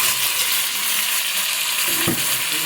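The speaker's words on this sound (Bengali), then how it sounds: "মাংস ঢাকনা দেবো না, এমনিতেই হিট কমিয়ে রেখে কষাবো" Chicken sautés in a pan over low heat with a steady, close sizzle and a brief scrape of stirring near the end.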